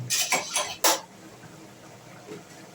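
A metal spoon stirs coconut chickpea dal in a pot, giving three or four quick, close clanks and scrapes, then a lid clatters on and the kitchen falls to a faint hush.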